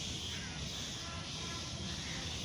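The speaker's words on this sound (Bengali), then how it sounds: "পাখির কিচিরমিচির শব্দে" Crows caw and birds chirp among the trees of Ramna Park in Dhaka at dawn, a dense, even wash of outdoor birdsong and distant calls with faint background murmur.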